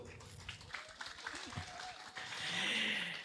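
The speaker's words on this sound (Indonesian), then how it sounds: "Sekali lagi kita aplaus paling meriah dulurku" Audience applause at a live comedy stage show, a broad clapping wash that swells in the final second after some murmuring crowd noise and a few shouts.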